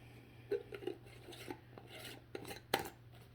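A lid gets fitted onto a small painted Dollar Tree Easter jar, with faint clinks, scrapes and one sharp knock of lid against jar, close and quiet, with no talking.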